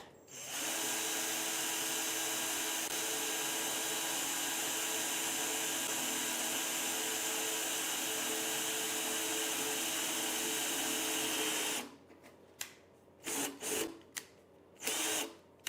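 A power drill bores a 4mm pilot hole into a panel, a loud, steady whine held for about eleven seconds before cutting off, followed by a few short bursts of rattling.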